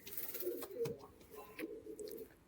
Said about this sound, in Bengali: এই যে গিরিবাজ পেয়ার দেখে নিন